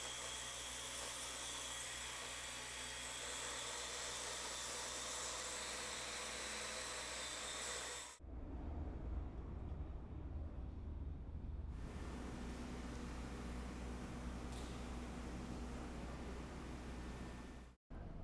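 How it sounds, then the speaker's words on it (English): A clean-out saw with a vacuum attachment recuts a concrete joint, making a loud, continuous, hissing roar that briefly drops, then resumes with a higher whine before cutting off at the end. "I'm going to use this nice, convenient clean out saw with a vacuum attachment to recut the joint before we fill it."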